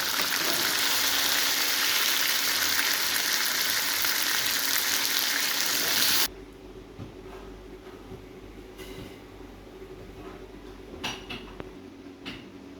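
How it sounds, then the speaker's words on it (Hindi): Chicken pieces half-frying in hot oil, a loud dense sizzle that cuts off abruptly about halfway, leaving quiet room tone with a few faint clinks. "चिकन हमारा फ्राई हो गया। हमने फुल फ्राई नहीं किया, इसको हमने हाफ फ्राई किया।"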